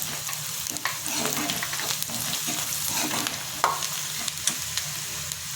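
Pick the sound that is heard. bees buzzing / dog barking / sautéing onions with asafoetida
sautéing onions with asafoetida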